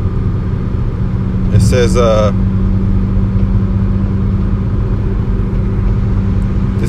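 Car driving, heard from inside the cabin as a steady low road rumble and engine drone throughout, with a person speaking briefly over it.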